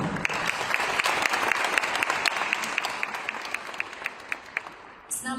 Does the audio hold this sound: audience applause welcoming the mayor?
yes